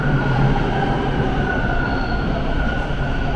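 Toronto TTC subway train rumbling close by in a loud, steady roar of wheels and motors, with a faint high whine running throughout and no voices.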